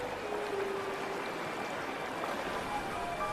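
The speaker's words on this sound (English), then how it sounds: "Trickles of water become torrents." Snowmelt runoff stream feeding a beaver's willow pond runs steadily, a continuous rushing and trickling wash of water at moderate level.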